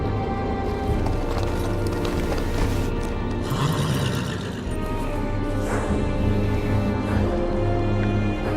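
Horse hooves clip-clopping in from Game of Thrones Telltale video game, with whinnies and neighs over a steady low musical drone, the hoofbeats close and continuing throughout.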